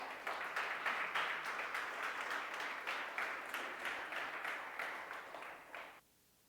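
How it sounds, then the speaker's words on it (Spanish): A church congregation claps in applause, a steady run of overlapping claps at moderate distance that carries on for about six seconds and then cuts off abruptly, with no talking over it. "dele un aplauso al Señor"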